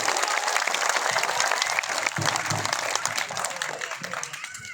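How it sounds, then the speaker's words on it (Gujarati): A crowd at a political election rally applauds loudly and continuously, with dense clapping that fades slightly toward the end, and some voices mixed in. "એના માટે તાળીઓનો ગડગડાટ થઈ જાય"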